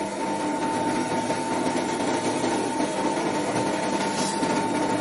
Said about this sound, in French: si je décharge le moteur, c'est-à-dire si j'enlève les résistances, donc le moteur va arrêter de forcer